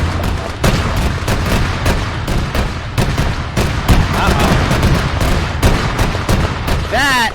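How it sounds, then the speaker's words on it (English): Heavy gunfire and artillery booms in an Arma military battle, with a tank shell bursting close by amid repeated sharp blasts and dense continuous firing, loud and near throughout. "Tank shell came just to the right."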